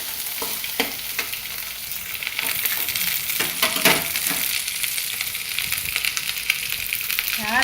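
Okra (vendaikai) sautéing in a pan for a tamarind curry: a steady, close sizzle and fry crackle with occasional stirring scrapes running throughout.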